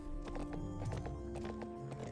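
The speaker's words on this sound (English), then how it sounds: "Get off the horse, Barbie." Horse hooves clip-clop in a steady trot in the Barbie Horse Adventures video game, with a neigh mixed into a busy game soundtrack.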